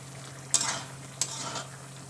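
Taro and potatoes being stir-fried in a pan for a Bengali fish curry, two quick spatula scrapes with soft sizzling under a low steady hum, close and moderate.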